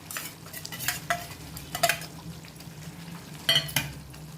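A spoon stirs fenugreek leaf curry in a pot with several distinct scraping clinks against the metal in irregular bursts, over a quiet background simmer.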